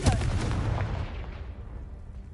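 A Confringo blasting spell goes off in Hogwarts Legacy, a loud close boom with a sharp opening burst that rolls into a long rumbling decay as debris settles, with no talk over it.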